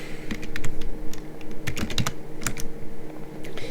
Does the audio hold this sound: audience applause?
no